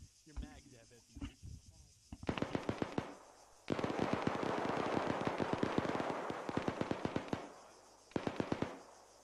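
Bursts of rapid gunfire from the Arma III military shooter game, including long sustained automatic volleys and short clusters of sharp shots, loud and close, with a voice heard over the opening seconds.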